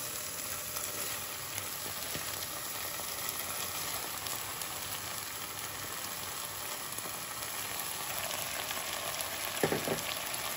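Soaked rice frying in a pan for coriander rice, a steady dense sizzle that runs without a break throughout, with faint stirring scrapes near the end.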